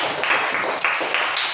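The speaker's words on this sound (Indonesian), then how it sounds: "Tepuk tangan untuk kelompok 2." A classroom of students claps briefly after a group presentation, a quick burst of uneven hand claps at moderate volume.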